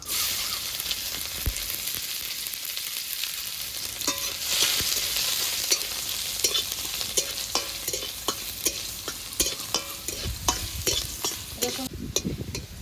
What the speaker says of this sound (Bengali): রসুনগুলো লাল লাল করে ভেজে নিয়েছি